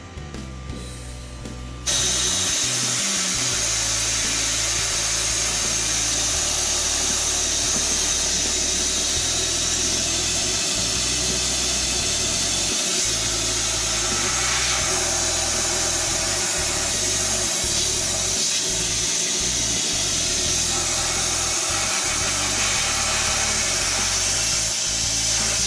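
Loud, continuous blowing of lint out of a clothes dryer with an air blower, a steady rushing whine with a low rumble that holds for the whole stretch after a brief quieter start.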